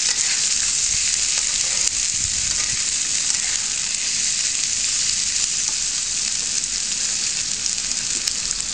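Spinach and potato curry sizzling in a pan as it is stirred, a loud continuous hissing fry with a few scraping knocks from the spoon, no voices.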